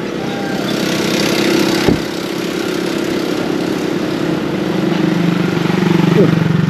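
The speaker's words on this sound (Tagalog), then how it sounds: "Yan ata yung motor mo." A motorcycle engine idles steadily close by, its low droning hum running throughout beneath a voice, with a brief knock partway through and the engine tone swelling slightly near the end.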